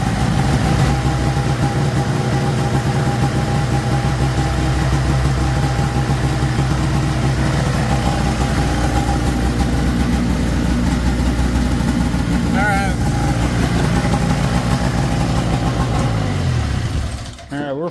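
A Ski-Doo Formula Mach 1 snowmobile with a rebuilt Rotax 617cc engine idles steadily while warming up, a loud, continuous close drone that cuts off abruptly at the end.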